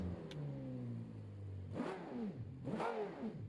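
A car engine revving hard through a straight-through muffler exhaust, two sharp throttle blips after a low idle hum, each a quick rising then falling roar, loud and close.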